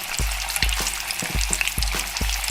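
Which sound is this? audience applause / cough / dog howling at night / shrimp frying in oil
shrimp frying in oil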